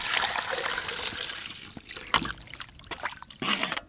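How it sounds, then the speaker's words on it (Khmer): Coconut milk is poured into a simmering chicken curry, a soft close trickle and splash of liquid with a few louder sloshes near the end, no voices. "ហើយយើងចាក់ខ្ទិះដូងចូលណា"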